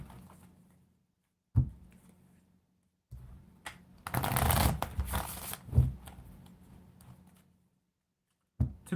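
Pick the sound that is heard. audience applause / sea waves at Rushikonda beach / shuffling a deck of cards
shuffling a deck of cards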